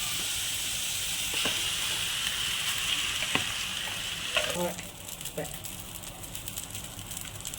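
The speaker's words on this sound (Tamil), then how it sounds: "இப்போ இதை மாவு கொண்டு கிண்டிக்கிறோம்" Flour mixture being stirred in a hot pan on the stove, a steady sizzling hiss with occasional scraping taps of the spoon, close by, while a voice talks over it.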